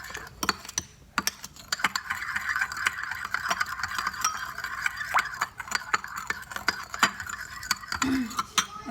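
Spoon stirring a sugar sauce for Vietnamese caramelized yellow pompano, making steady light scraping and clinking against the pot, with scattered sharp ticks over a soft continuous background hum at moderate, close range.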